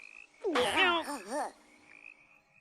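Frogs croaking in a swamp, a single loud warbling croak of about a second, rising and falling in pitch, standing out against a faint quiet background.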